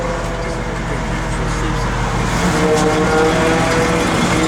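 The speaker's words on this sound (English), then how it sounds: "Blower motor works, guys." A 1964 Chevrolet Impala's blower motor runs with a steady, even whir and hum, close and constant for several seconds with a slight swell toward the end.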